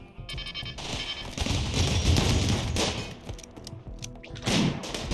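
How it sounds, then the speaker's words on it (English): Auto turrets firing during a RimWorld base defense, a sustained barrage of rapid, rattling shots with thuds mixed in, loud and continuous through the clip, swelling toward the end. "These auto turrets. Let's see what they do."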